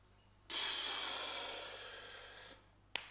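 A single long, forceful exhale hisses out close to the microphone during a kettlebell squat from the rack position, fading over about two seconds, with a short sharp breath just after.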